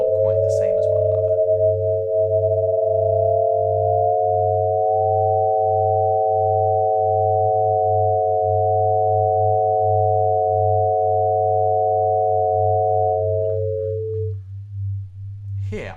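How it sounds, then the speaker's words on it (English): Hyasynth synthesiser prototype tones: several steady sustained notes with two lower pitches beating slowly against each other, over a pulsing low drone, loud and clean, ending as the notes drop away. "So you can hear that at this point I'm trying to remove that beating between the two lower notes"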